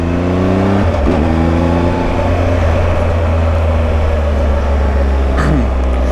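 A Triumph Tiger 1200 XCA motorcycle with an Arrow exhaust hums steadily up close with a deep exhaust drone, giving a couple of brief rev changes near the start and end.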